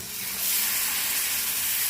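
A little water poured into a hot pan of frying onion, garlic and dried fish, a broad, loud hiss of steam and sizzle that swells and holds steady.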